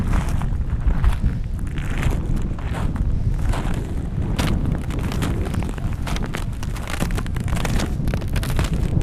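Cold January wind blows hard across a bay of the Kakhovka Reservoir, a constant rough buffeting roar with gusty microphone rumble and no voices.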